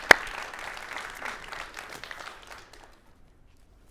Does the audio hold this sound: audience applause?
yes